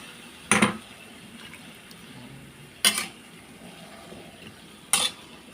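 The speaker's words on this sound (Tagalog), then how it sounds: "Then, lagay na po natin ang sayote." Chayote stirred into a pan with shrimp while cooking, three sharp clatters of a utensil against the pan spaced a couple of seconds apart over a faint steady sizzle, close, no voices.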